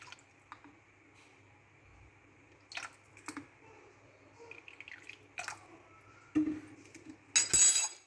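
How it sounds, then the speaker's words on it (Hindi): Chicken is mixed by hand with a soy sauce and vinegar marinade for a steam roast: sparse soft squishes and faint clinks over near silence, ending in louder wet squelching bursts. "इसको मिक्स करने लगी हूँ।"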